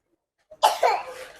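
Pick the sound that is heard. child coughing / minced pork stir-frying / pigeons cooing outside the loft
child coughing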